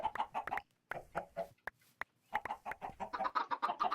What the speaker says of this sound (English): Oh god, that's a compressed chicken.